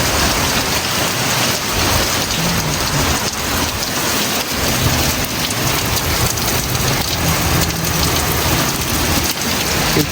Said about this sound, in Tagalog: Yung kulog.